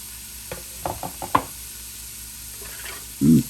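Chili ingredients drop into hot oil and start to sizzle. A few soft knocks and clinks come first, then the frying sound grows, ending in a short, louder burst of sizzle.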